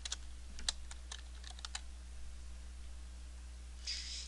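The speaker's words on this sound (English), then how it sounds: "I'm going to simply type United States." Typing on a computer keyboard: a quick burst of crisp, close keystrokes in an uneven rhythm, then quiet with low background hum.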